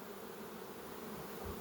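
Bees buzz densely inside nucleus hives, a steady, close, continuous drone with no voices.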